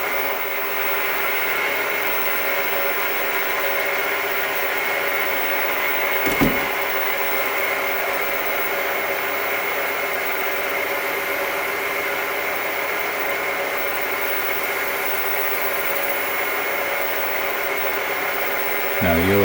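A wood lathe spins an acrylic pen blank at about 960 RPM, giving a steady, fairly loud whirring hum with a constant motor drone throughout and a brief knock partway through.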